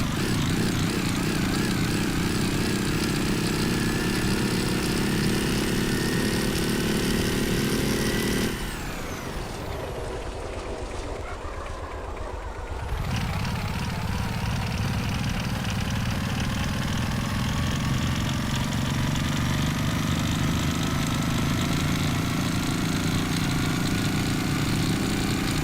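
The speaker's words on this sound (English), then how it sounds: "I'm almost tempted to leave one of those as the double audio. Sound like a motorbike." A player-built vehicle's engine in the building game Gearblocks drones steadily with a buzzy, motorbike-like tone, dipping briefly in the middle before resuming its constant hum, with no talk.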